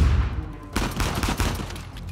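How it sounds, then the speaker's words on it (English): Dense gunfire from Uncharted 4, a quiet low rumble giving way to a sudden loud, sustained barrage of overlapping shots and bursts that keeps rattling without pause to the end. "The shooting."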